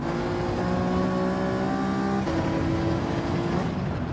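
A damaged race car in Gran Turismo 7 accelerates hard, its engine note holding loud and steady, a sustained whine that shifts pitch briefly midway then climbs again, with no talk over it.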